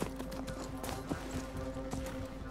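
Horse hooves clip-clop at a steady trot in the video game Assassin's Creed Mirage, rhythmic quiet thuds under a faint tonal game soundtrack.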